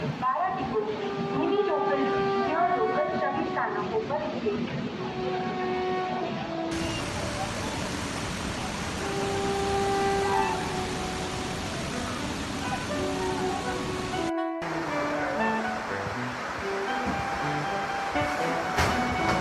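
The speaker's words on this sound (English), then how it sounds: "The tracks have disappeared beneath the flood, yet the train continues its journey." A train rumbles steadily through floodwater covering the tracks, with a hissing, rushing wash of water, a narrator's voice speaking over the continuous noise.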